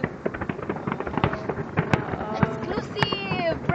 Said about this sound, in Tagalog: The fireworks sponsored by Exclusive!